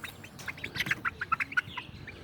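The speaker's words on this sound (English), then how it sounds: "These are my rescue chickens." Soft, quick clucks from a few chickens, a burst of short calls close together, heard faintly over a quiet outdoor background.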